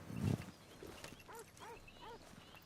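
Horse hooves in the video game Red Dead Redemption 2, a few soft clip-clop steps and a snort, faint and close, with no speech over them.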